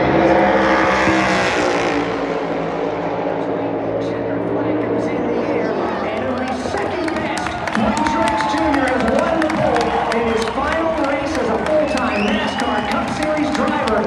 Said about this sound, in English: The final car to qualify is in turn 3.